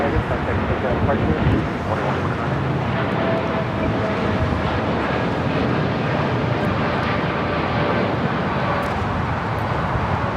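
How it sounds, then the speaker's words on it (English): An American Airlines Boeing 787-8 Dreamliner taking off from LAX produces a sustained, fairly loud jet roar that runs steadily throughout, with voices talking in the background. "This is American Airlines 2129 taking off to Miami, Florida on a 787-8 Dreamliner"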